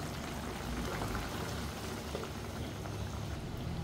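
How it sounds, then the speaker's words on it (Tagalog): Beef simmering in a pot of spaghetti sauce for Filipino spaghetti, a steady close bubbling and sizzling hiss that carries on without break and with no voices. "Ilalaga lang po natin hanggang lumambot yung beef."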